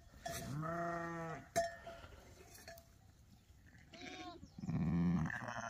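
Sheep and a lamb bleat in a lambing pen, several wavering calls of different pitches, loud and close, with clinks and shuffling between them.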